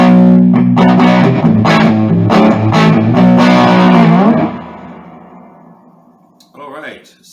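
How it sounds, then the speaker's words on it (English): An electric guitar played through an Artist TweedTone20R 20W tube combo amplifier rings out in loud, distorted strummed chords for several seconds, then decays into silence, followed by a brief lighter phrase. "A lot of tones out of this amplifier."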